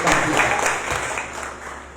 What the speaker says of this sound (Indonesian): Nah, tepuk tangan yang meriah bagi Tuhan.